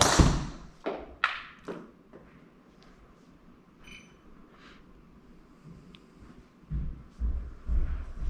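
A golf driver strikes a ball during a club fitting session, giving a sharp thud near the start followed by a few more impacts, then quieter room noise.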